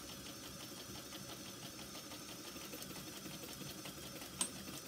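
Sewing machine running steadily while back stitching along a fabric strap, a continuous near mechanical whir with faint rhythmic needle ticks and one brief sharp click near the end, no talking.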